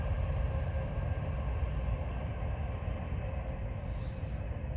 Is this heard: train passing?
yes